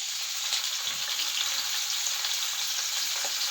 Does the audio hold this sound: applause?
no